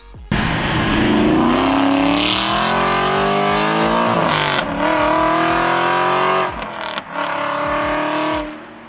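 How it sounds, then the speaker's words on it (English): A dual overhead cam V8 revs hard and loud at high RPM, its pitch climbing and holding with brief lifts and re-revs, no voices over it. "they have a beautiful dual overhead cam V8 that just sings at higher RPMs."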